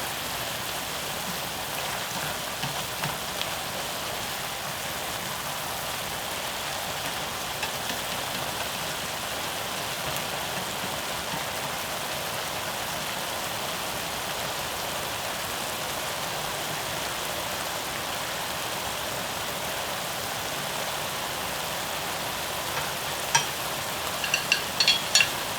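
Beef bulgogi stir-frying in a pan, a steady soft sizzle and crackle that holds evenly throughout, faint and close, with a few small clinks near the end.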